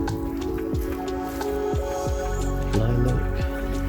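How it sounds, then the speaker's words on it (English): Light water spray pattering onto bonsai trees and their soil, a soft steady hiss of droplets with a few small drips, over faint background tones. "I'll just give everything a very light watering."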